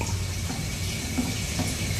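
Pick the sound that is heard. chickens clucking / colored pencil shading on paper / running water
running water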